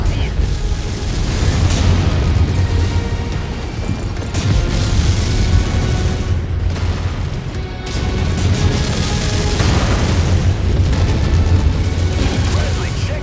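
Mech combat in MechWarrior 5: Mercenaries campaign mode, a continuous, dense roar of explosions, crashes and mechanical clanking with rhythmic heavy thumps, loud throughout, with brief lulls between waves.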